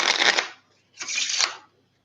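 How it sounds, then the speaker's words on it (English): A deck of playing cards is shuffled twice in quick succession, each a close, crisp riffling burst about half a second long separated by a short pause. "I'm gonna shuffle 4 times like this"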